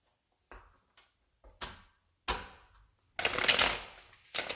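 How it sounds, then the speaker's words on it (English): Tarot cards being shuffled in short riffling bursts, close and crisp, ending in a louder, longer riffle. "One more shuffle here."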